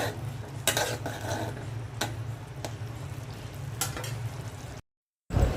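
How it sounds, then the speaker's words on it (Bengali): Prawn bhuna being stirred and cooked in a pan, with a steady sizzle broken by several scraping strokes of a spoon against the metal, close and fairly loud, then a short silence before the stirring resumes. "ছেলের জন্য চিংড়ি মাছ ভুনা করছি"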